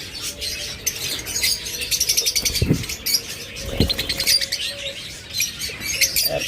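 Six-month-old pet birds in a pair call with repeated bright chirps and tweets over a soft background, joined by a couple of low wing flutters.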